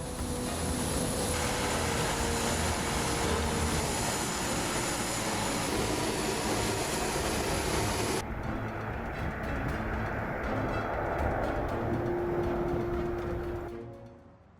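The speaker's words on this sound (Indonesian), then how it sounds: "para pilot diizinkan untuk lepas landas menuju pangkalan di Antartika" A loud, sustained aircraft engine roar fills the whole stretch as a plane takes off from a polar air base for Antarctica, shifting in tone midway as the noise builds and holds before fading at the end.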